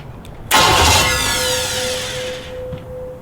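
A Chevy 350 V8 engine on a test rack cranks briefly and roars to life with a loud burst, then settles into a rough, steady idle close by.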